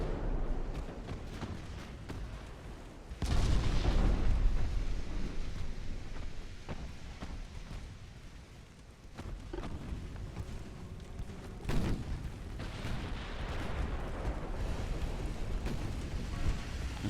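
Heavy naval guns firing super heavy shells in the warship battle game Ultimate Admiral: Dreadnoughts: deep rumbling booms that swell and roll away, one big blast standing out, over a constant low din of distant battle.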